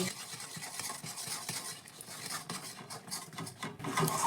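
A spoon scrapes and stirs rice flour into boiling water in a pot on a gas stove, a steady close rasping and swishing that continues throughout without talk.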